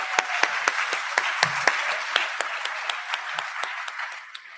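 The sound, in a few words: audience applause for speeches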